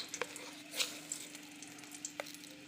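Green chilli hitting hot oil in a wok while a koi fish curry with papaya cooks, giving a faint, steady sizzle with a few soft clicks and pops over a low hum.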